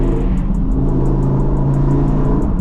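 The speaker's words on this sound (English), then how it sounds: "The burbles on this car are absolutely insane." An Audi R8 in dynamic mode rumbles loudly and close, a deep steady exhaust drone with a faint rapid ticking above it and no voices.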